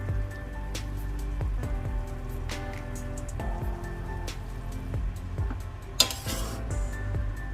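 Spatula scraping and clinking in a pan while basmati fried rice with vegetables is stirred and tossed, steady soft metallic taps and scrapes with one sharper clank near the end.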